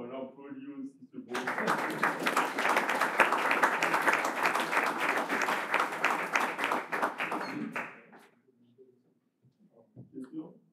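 Audience at a conference on sport and professional integration breaks into applause, a dense burst of clapping that runs for about six seconds and fades out, followed by brief quiet talk.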